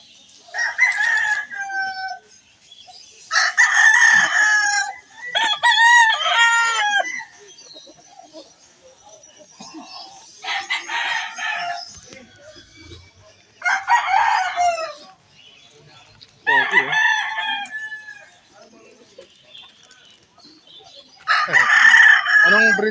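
A rooster crows repeatedly at a pet market in Malabon before dawn, loud and close, each call separated by short pauses, with some clucking in between.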